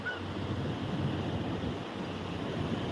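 Sea waves wash steadily under a strong sea wind that buffets the microphone, forming a continuous, moderately loud rushing roar with no talking.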